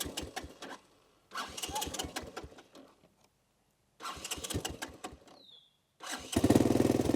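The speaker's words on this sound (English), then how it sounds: "That's the sound of pure Japanese engineering." A Honda ATC three-wheeler engine cranks and catches in repeated bursts, separated by short silences. It then roars up loud at the end, close by.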